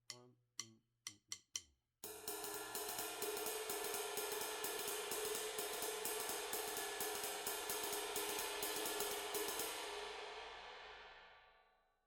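Ride cymbal on a drum kit played in rounded, nearly straight eighth notes at a brisk swing tempo, a few sparse strokes first, then a steady shimmering pattern that rings out and fades away.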